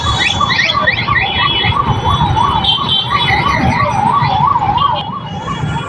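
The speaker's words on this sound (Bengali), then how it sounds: "একটা অ্যাম্বুলেন্স আসছিল তাকে সাইড দেওয়ার জন্য আমরা একটু এগিয়ে গেলাম" An ambulance siren wails loudly with a steady rising and falling tone as it moves along a road through traffic, passing close by amid engine rumble.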